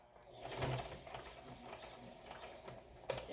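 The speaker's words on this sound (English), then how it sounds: "Stitching." A sewing machine stitches a dress seam along its top edge, running as a steady, close mechanical whir with a fast rhythmic ticking throughout.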